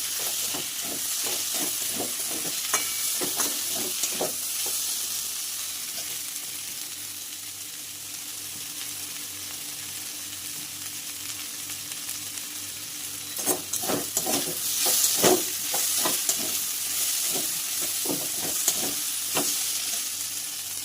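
Spice masala frying in a pan for a fish curry gives a loud, steady sizzle, with a sharp burst of hissing and spattering as a little water hits the hot spices, plus stirring scrapes and clacks.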